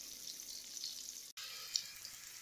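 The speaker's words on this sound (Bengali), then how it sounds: "এখন এগুলোকে আমি একটু লাল লাল করে ভেজে নেব।" Pumpkin pieces fry in oil in a pan for a Bengali-style pumpkin and potato curry, making a faint, steady hissing sizzle with one brief break, with no talking.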